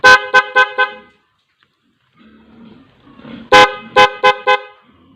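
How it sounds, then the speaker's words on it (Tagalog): A dual contact horn fitted to a motorcycle blasts in two bursts of quick, loud, car-like honks separated by a short quiet pause, with a faint low murmur in between. "Pindutin natin yung hollow switch ulit. Lubog natin. Yan, tunog kotse, geng geng."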